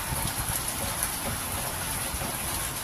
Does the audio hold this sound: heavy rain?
yes